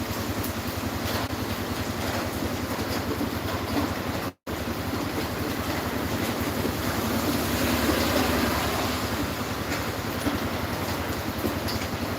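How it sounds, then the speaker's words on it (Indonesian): Steady rain hissing down with a broad wash of noise and some wind rumble, continuous and fairly close, with a brief dropout partway through. "Ini lagi hujan ya di Cangadi guys."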